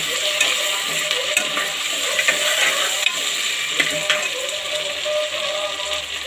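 Onions, green chillies and ginger garlic paste fry in a pan, a steady loud sizzle with occasional clicks of a spoon stirring through it, continuous and close.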